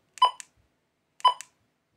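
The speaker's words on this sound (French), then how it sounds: "Vous avez un bip long, ce qui veut dire que c'est bon" Two identical short electronic chirps from a Baojie BJ-218 radio transceiver, about a second apart, crisp and close against silence.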